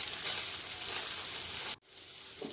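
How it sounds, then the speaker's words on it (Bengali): Beaten egg with a little salt sizzling and frying in a hot pan for a Bengali rajma curry, a loud continuous crackling hiss that cuts off abruptly near the end before a softer sizzle resumes. "একটু ডিমের ঝুই ভাজা করে নেব"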